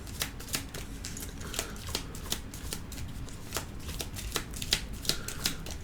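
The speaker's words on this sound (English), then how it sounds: "Now we have to take the discard pile from the invasion deck, give it a good shuffle" A small stack of Star Wars: The Clone Wars board game invasion cards is shuffled by hand, giving repeated crisp riffling snaps at an even, quick rhythm, close and fairly quiet.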